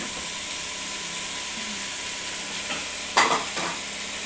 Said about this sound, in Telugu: ఆనియన్స్ అది ఫ్రై అయినాక గ్రీన్ గోబీ వేసి ఫ్రై చేయాలి.